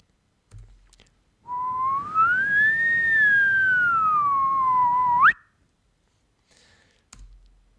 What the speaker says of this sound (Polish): Zademonstruję to po prostu gwiżdżąc.